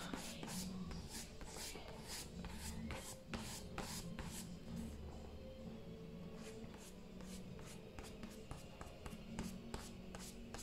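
A brush scrubs oil pastel off watercolor paper in a quick, steady series of dry rasping strokes, close and fairly quiet, with a rhythmic back-and-forth scratching throughout.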